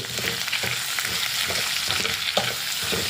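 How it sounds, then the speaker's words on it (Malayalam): Chopped shallots sizzle steadily in hot oil while being stirred in a pan for ginger pachadi, with intermittent scraping stir strokes over a constant close frying hiss and no talking. "നമുക്ക് കുറച്ച് ഇനി അതും ഇട്ടിട്ട് നമുക്ക് നന്നായിട്ടൊന്ന് ഇളക്കാം"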